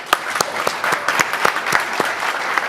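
Audience at a climate-policy panel discussion gives applause, a moderate crowd clapping with individual sharp claps standing out in an uneven rhythm, sustained across the whole moment.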